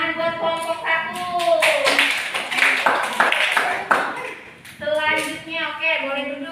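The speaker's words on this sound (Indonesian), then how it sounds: "Beri tepuk tangan buat kelompok 1." A classroom applauds group 1 with a burst of clapping that rises under a teacher's voice. Talk continues before and after the clapping.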